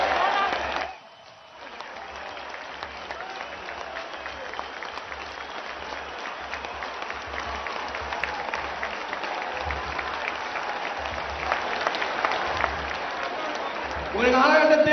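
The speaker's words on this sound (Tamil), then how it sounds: "எழுந்து நின்று ஒரு நிமிடம் கரகோஷத்துடன் கை தட்டுவோம்" A large crowd at Narendra Modi's election rally in Puducherry applauds in sustained, steady clapping after a brief pause, with a loudspeaker voice near the start and end.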